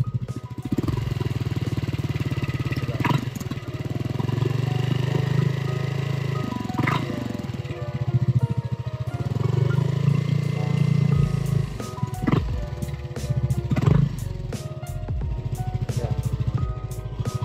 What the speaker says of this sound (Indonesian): Suara idle-nya itu halus ya.